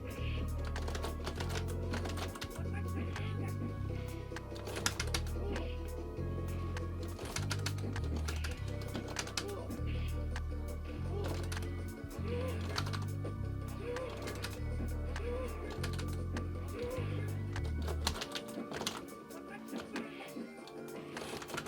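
Rapid clicking from an upgraded Arcade1up arcade joystick and buttons under test, a steady run of close, sharp clicks and clacks over a low repeating game soundtrack, stopping near the end.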